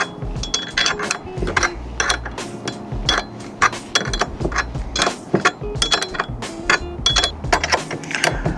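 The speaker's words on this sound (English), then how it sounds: "I'm using the provided wrenches that are working pretty well" Metallic clinks and ratcheting taps from wrenches tightening bolts on an awning mounting bracket, a steady close run of irregular clicks and knocks.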